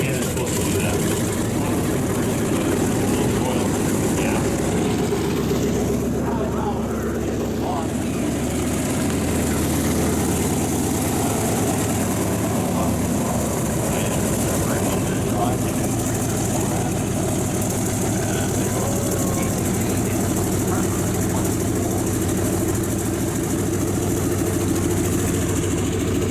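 Douglas SBD Dauntless WWII airplane engine idling on the ground, a loud continuous low radial-engine drone with steady propeller throb throughout, and a voice talking under it at times.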